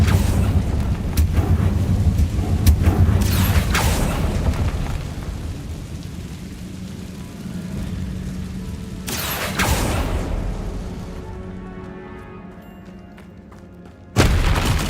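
Confringo spell explosions in Hogwarts Legacy land as a few heavy booms and thuds over a continuous rumbling bed. A sharp blast comes near the end after a quieter stretch.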